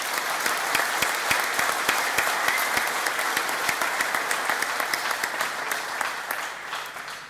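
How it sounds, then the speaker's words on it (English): Audience applause for a guest speaker at an aviation and engineering college graduation ceremony, a dense, steady crowd clapping that fills the whole stretch at even loudness before easing slightly at the end. "let's give him a round of applause"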